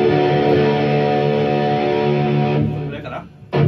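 Electric guitar recorded as a direct line signal, a sustained distorted chord ringing steadily then fading, with a brief new attack at the end.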